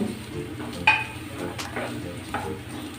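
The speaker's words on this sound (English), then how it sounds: "Now I am going to add chopped capsicum." Beans, carrots and chopped capsicum are stir-fried for vegetable Hakka noodles, a steady pan sizzle with scraping stirs and a couple of light utensil clinks, close by and without talking.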